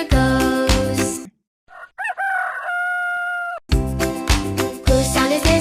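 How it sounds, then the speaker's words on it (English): A rooster gives one clear, drawn-out cock-a-doodle-doo, loud and close, in a short gap between bursts of bouncy children's music. "This is a rooster."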